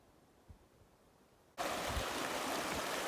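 Stream water rushes at a trail crossing in mountain country, first faint and distant, then abruptly loud and close as a steady broadband flowing roar, with no talk.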